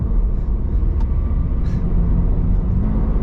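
A Toyota GR86 sports car, used as a daily driver, drives along with a loud, steady low engine and road rumble heard from inside the car, with a couple of brief higher blips.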